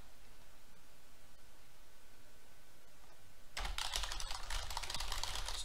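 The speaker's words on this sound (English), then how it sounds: "You're not talking, you're typing." Computer keyboard typing from the chat game Emily is Away, a dense burst of rapid key clicks that starts suddenly after a quiet stretch and continues loud and close to the end.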